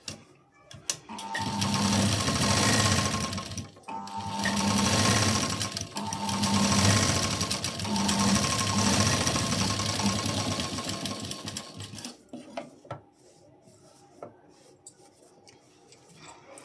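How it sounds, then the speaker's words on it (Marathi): A sewing machine runs in several steady bursts while double-stitching a blouse, with short pauses between runs, close and loud, then stops, leaving quiet handling sounds. "आता इथे मी लगेच डबल शिलाई देऊन घेते"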